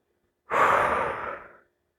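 A single deep exhale during a yoga stretching flow, close and clear, a breathy whoosh lasting just over a second, then silence, with no talking.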